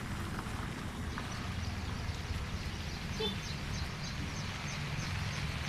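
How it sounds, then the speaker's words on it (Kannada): Heavy monsoon rain pours down over Sirsi, a steady, dense wash of noise that holds at an even level throughout with no pauses. "ಮಳೆ ಭರ್ಜರಿಯಾಗಿ ಸುರಿತಾ ಇದೆ."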